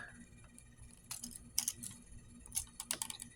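Plastic parts of a Transformers ROTF Hunters toy clicking and snapping as they are folded and rotated, a series of sharp, close clicks in irregular bursts with quiet gaps between them.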